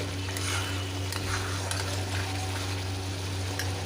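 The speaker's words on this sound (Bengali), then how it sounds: "মশলাটাকে খুব ভালো করে কষিয়ে নেব গ্যাসের ফ্লেমটা এই সময় লো টু মিডিয়ামে রেখেই আমি কষাচ্ছি মশলাটাকে" Spice paste being fried in a pan over a low-medium gas flame for a Bengali dhokar dalna, a soft continuous sizzle with occasional light scrapes of stirring over a steady low hum.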